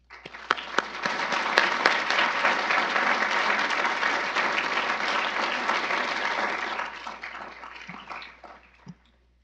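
An indoor audience at a building dedication breaks into sustained applause, building quickly and holding steady for several seconds before tapering off with a few last claps.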